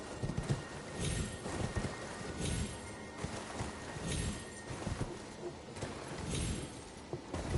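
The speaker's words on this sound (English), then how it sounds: "Torrent, the only horse that can just hang off the edge of a cliff with two hooves" Hoofbeats of Torrent, the spectral steed in the video game Elden Ring, clip-clopping in a steady repeated rhythm, close and fairly loud, with a brief whinny-like cry and occasional faint voices.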